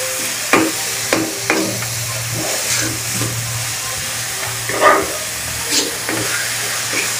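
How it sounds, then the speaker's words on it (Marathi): Onions sautéed in a pan for paneer bhurji, a steady frying sizzle broken by irregular knocks and scrapes of a spatula being stirred, close and fairly loud with no talk. "कांदा वगैरे हे सगळं मस्त परतून घ्यायचं"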